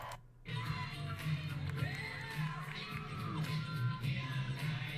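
An Anthrocon 2024 convention crowd cheers and whoops for the costumed dancers, a loud, sustained roar with shouts layered on top.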